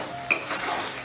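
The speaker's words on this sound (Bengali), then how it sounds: "এবারে এই মশলাটাকেও বেশ ভালো করে কষে নেব" Spice masala of Kashmiri chilli powder stirred and fried in oil in a pan for shahi paneer, with a brief spoon scrape followed by a soft, steady sizzle.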